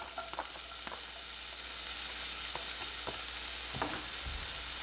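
Onions and sausage fry in butter in a pan, a continuous close sizzle punctuated by occasional scrapes and taps of a utensil, with no talking.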